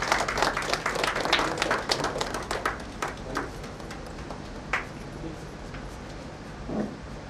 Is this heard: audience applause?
yes